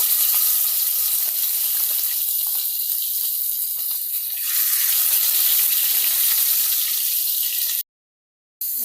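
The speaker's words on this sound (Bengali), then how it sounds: "তেল গরম হয়ে গেছে মাছগুলো দিয়ে দিব" Four pieces of rohu fish, washed and rubbed with salt and turmeric, fry in hot oil in a pan. A loud, steady, close sizzle runs almost without a break, with one brief gap near the end.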